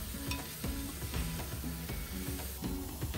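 Tomatoes and onions fry in a pan for a Nepali mixed bean curry, a soft continuous sizzle with rhythmic stirring scrapes, close but quiet and without talk.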